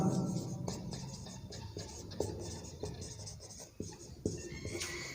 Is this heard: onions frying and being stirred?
no